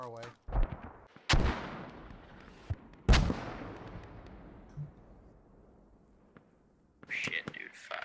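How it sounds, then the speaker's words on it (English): Mortar rounds in the military shooter Squad land as a few sharp, booming blasts with long decaying tails, spaced seconds apart, one distant thud between, and a final burst of clattering noise near the end. "More mortars out."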